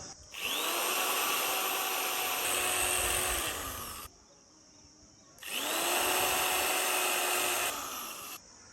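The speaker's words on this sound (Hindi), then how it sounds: "तो ड्रिलिंग करते हैं।" Two long bursts of a power drill whining loudly at high speed into a concrete wall, each lasting a few seconds, separated by a short quiet pause.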